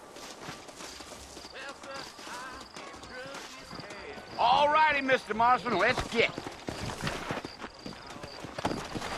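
Horse hooves clip-clop steadily in the Red Dead Redemption video game while characters talk over them, with faint whinnying and a rhythmic trot continuing throughout.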